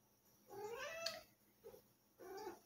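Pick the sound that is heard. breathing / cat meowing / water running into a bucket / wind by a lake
cat meowing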